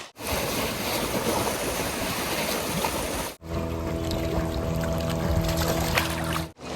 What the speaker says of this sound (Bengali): এখানে জলের স্রোতটা কিন্তু বিভৎস স্রোত